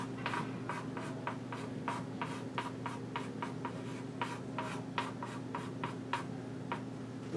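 A math expression is written out by hand in quick, rhythmic scratchy strokes, close and quiet. Short pauses fall between the strokes, over a low steady background hum.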